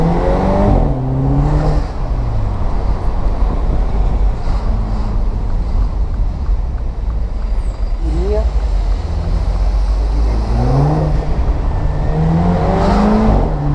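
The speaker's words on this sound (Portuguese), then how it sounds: "esse ronco de escapamento é incrível quando você troca de marcha" Heard from inside a car on a test drive, the exhaust roars and rises in pitch through each gear, dips at the shift, then climbs again, with wind buffeting throughout.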